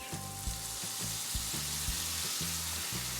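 Spam pieces sizzle and fry steadily in a pan seasoned with a little soy sauce, while a utensil stirs them in repeated scraping strokes roughly every half second, close and clear with no talking.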